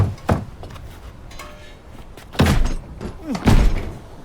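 Heavy banging on a door in a horror movie, several loud thuds at uneven intervals with a dull booming low end, over a dark noisy background and a shouting voice.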